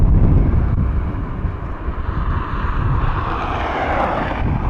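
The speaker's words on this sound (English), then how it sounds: "Stunning aircraft." Aircraft at Dublin Airport producing a steady, broad engine roar with wind rumble, loud and continuous throughout with no voices.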